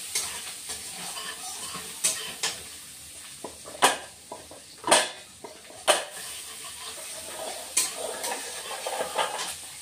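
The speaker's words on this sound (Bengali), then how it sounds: "এই যে পেঁয়াজ ফোড়ন, ওই তেলের মধ্যে পেঁয়াজ দিয়ে দিয়েছি বন্ধুরা।" Onion fries in hot oil for a fish curry, giving a low steady sizzle broken by sharp scrapes and clacks of a spoon stirring against the pan, close and uneven, with no talk.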